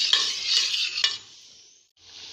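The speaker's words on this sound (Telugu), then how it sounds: "సగ్గుబియ్యం పౌడర్ని ఒక బౌల్లో తీసుకొని ఇందులో వాటర్ యాడ్ చేసుకొని మిక్స్ చేసుకోండి." Sago flour and water stirred together in a bowl: a few close, scraping strokes with a wet swish, fading out, then a brief pause before softer stirring resumes.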